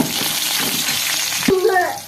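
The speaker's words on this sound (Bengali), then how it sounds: "দেখো আমি এখন মাছ ভাজি" Steady hiss of fish frying in oil in a pan, close up, with a brief clatter and faint squeaky tones near the end.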